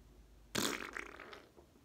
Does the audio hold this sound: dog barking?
no